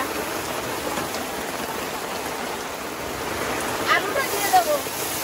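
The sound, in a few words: heavy rain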